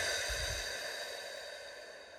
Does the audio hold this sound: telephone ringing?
no